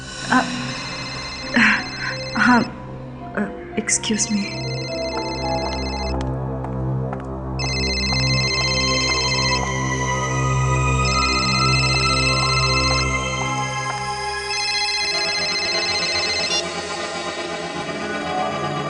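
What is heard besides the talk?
phone ringtone ringing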